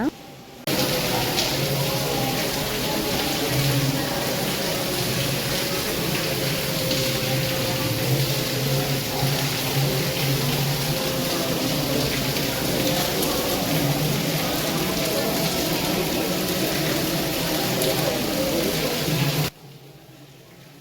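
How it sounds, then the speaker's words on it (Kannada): Steady, dense rain pours without a break for about twenty seconds around a temple, a broad continuous hiss with low rumbling underneath, then cuts off abruptly. "ನೋಡಿ ಎಷ್ಟು ಸೌಂಡು ಮಳೆದು, ಎಷ್ಟು ಜೋರಾಗಿ ಬರ್ತಾಯಿತ್ತು"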